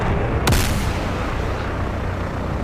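SM-2 missiles launch at incoming drones in a naval combat video game, one sharp, loud blast near the start followed by a rumbling roar that fades into steady background noise.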